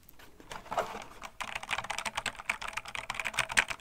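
Rapid computer keyboard typing, close and steady, with a quick clicky rhythm of keystrokes and no voices.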